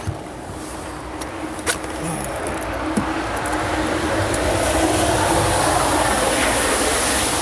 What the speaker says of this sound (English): at least he's plowing the slush